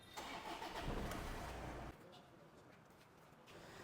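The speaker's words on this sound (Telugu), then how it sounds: "ఈ పుష్ బటన్ తోటి కూడా మనం ఇంజన్ స్టార్ట్ చేయొచ్చు" A Toyota Innova's engine cranks and catches on a keyless push-start button, a loud burst of starting noise settling quickly into a quieter idle.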